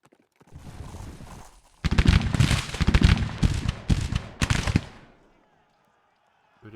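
Infantry volleys crackle in the Grand Tactician Confederate campaign as troops fire on cavalry: several dense bursts of rapid, popping gunfire in quick succession, loud and close, followed by quiet.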